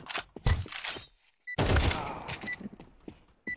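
Rapid bursts of gunfire from a multiplayer shooter game at a casual arcade night, two dense volleys separated by a brief silence, loud and close with scattered sharper shots trailing off.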